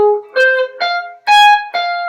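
Five clean guitar notes of a minor arpeggio in fifth position, each picked about half a second apart and left ringing, played alone and close.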